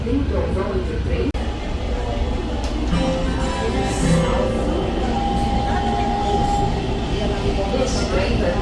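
Metro train running on the airport line between Congonhas and Guarulhos: a steady rolling rumble with faint squealing wheel tones, heard from inside the carriage, with a recorded voice announcing over the noise.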